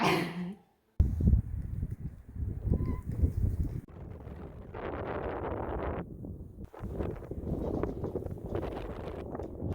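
Gusty wind buffets the microphone outdoors while framing walls for a chicken coop, rumbling and roaring in uneven bursts with brief lulls, loud and close.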